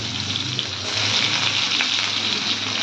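Sliced onions frying in hot oil, a loud, dense, continuous sizzle with a hissing, rain-like texture that holds steady and swells slightly after the first second.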